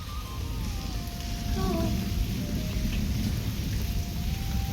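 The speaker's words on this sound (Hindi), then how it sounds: "बारिश लगी हुई है काफ़ी खतरनाक से बाहर" Heavy rain falls outside in a steady, dense wash of noise with a low rumbling undertone, continuous and even throughout, with faint tonal sounds drifting over it.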